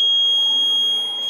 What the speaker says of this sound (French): Ça, c'est une alarme de porte.